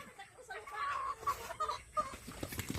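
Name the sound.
chickens clucking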